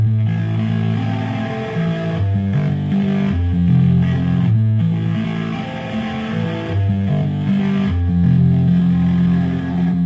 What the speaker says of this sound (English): Let's run it through a distortion plugin.